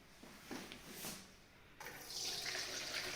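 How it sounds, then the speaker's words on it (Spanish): Boiled wild collejas greens being drained, with water pouring and splashing into a sink in bursts, then a steadier rushing flow in the second half, fairly close and quiet, with no voices. "La vamos a escurrir bastante bien."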